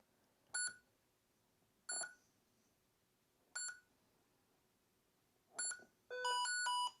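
Lexibook Chessman Elite electronic chess computer giving four short separate electronic beeps, each a bright harmonic tone, followed by a longer rapid run of melodic bleeps, close and fairly quiet in an otherwise silent room.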